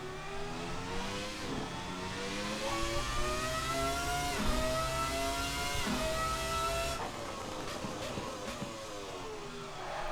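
Ferrari F300 Formula One car engine in the racing game Assetto Corsa, a high-pitched screaming V engine revving up and down through gear changes, continuous and loud with no talking.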